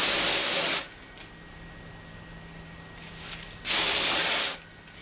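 A paint spray gun fed by an air compressor hisses in two loud sustained bursts, each lasting close to a second, separated by a quiet pause with only faint background hum.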